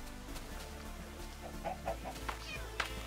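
Minecraft chicken clucking: a few short, clipped clucks popping up over a steady low background hum.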